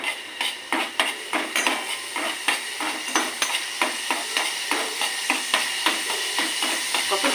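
Green chillies sizzling in a pan for a home-style Bengali egg tadka, with a steady run of metallic scraping and stirring clicks from a spatula against the pan, fairly loud and close, no talk.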